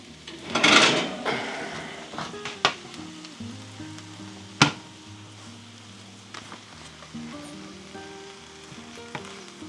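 Sausage and garden vegetables for an Appalachian roast sizzle in a pan, with a loud burst of frying early on that settles into a softer, steady crackle with occasional clicks and knocks, over faint background music.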